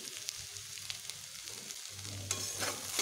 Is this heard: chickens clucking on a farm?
no